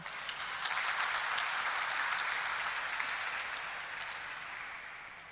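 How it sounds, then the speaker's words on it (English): Audience applause at the listing ceremony of Newjaisa Technologies Limited, welcoming Managing Director and CEO Vishesh Handa: dense, steady clapping from a large crowd, sustained for several seconds and tapering slightly near the end. "Can we have a huge round of applause for him?"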